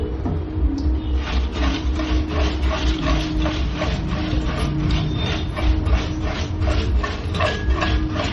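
A lucky draw drum loaded with paper slips is spun at a women's prize event, giving a steady rattling, clicking churn that repeats rhythmically for several seconds, loud and close with no talk over it.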